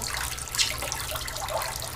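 Water runs and trickles from removed commercial filter cartridges, a steady close splashing wash lasting the whole moment with no voices.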